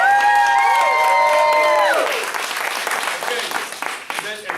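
At a martial arts belt ceremony, loud cheering voices rise and fall at the start, then a crowd breaks into sustained clapping that gradually thins out.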